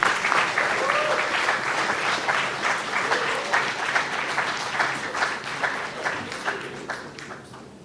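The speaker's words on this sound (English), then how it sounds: "A big round of applause, please, everyone." An audience applauds panelists at a company's 25th anniversary celebration, a broad sustained clapping from many hands that slowly tapers off toward the end.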